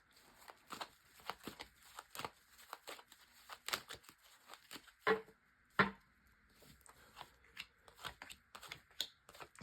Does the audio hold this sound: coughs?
no